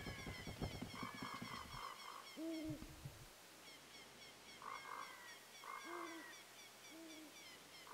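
Owls hooting in a video game night scene, several two-note hoots spaced across the stretch over quiet ambience and soft chiming music, the calls clear and moderately close.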